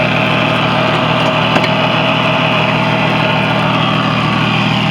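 A loud, steady 4.3 engine on a Regal deck boat with a 21-pitch propeller drones throughout at an even pitch on a dyno test, running continuously without letting up and with no talking.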